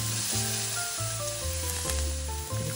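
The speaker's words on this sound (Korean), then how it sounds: "다진 마늘과 대파를 삼겹살 기름에 볶아줄 거예요." Minced garlic and green onion stir-frying in rendered pork belly fat, a steady close sizzle and crackle with occasional stirring scrapes and no talk.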